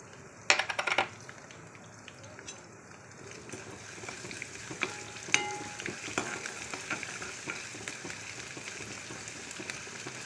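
Ginger and shallots fry in a pan for Kerala matta rice kozhukattai, a faint steady sizzle with sharp utensil clinks and scrapes near the start and occasional stirring taps later.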